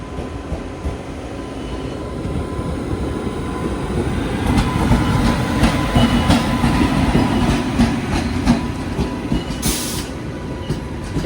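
A WP7-hauled Rocket Express runs slowly on rails toward Karwar, giving a continuous heavy rumble with rhythmic wheel clatter and a brief higher squeal near the end.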